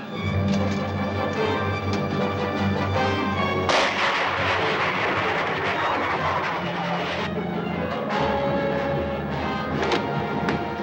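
Rifle fire in a 1952 science-fiction film serial: a sharp blast cuts through a dense roar of engine and machinery noise, followed by further bursts over the steady rumble, with no speech.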